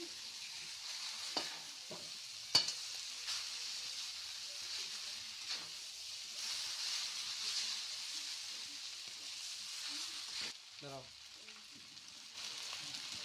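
Chicken chow mein noodles stirred and fried in a hot pan, a steady sizzle and hiss with occasional utensil scrapes and clinks, fairly soft and close, with no talking.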